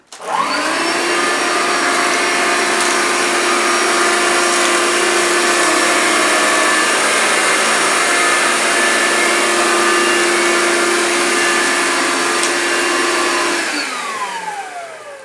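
A Vax Life cordless upright vacuum cleaner running on carpet, giving a loud, steady whine that holds evenly for about fourteen seconds before winding down at the end.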